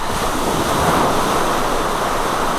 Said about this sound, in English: The waves will be here any minute.